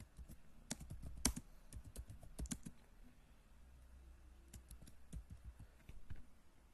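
Keys clatter on a computer keyboard as text is entered into an Excel spreadsheet, quick irregular bursts of sharp, close clicks with short pauses between words, in an otherwise quiet room.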